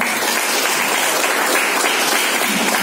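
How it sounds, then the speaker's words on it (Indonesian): A loud, dense burst of audience applause follows a Quranic recitation at a religious gathering, many hands clapping evenly and closely for about three seconds with no voices. "Tepuk tangan dulu untuk ya."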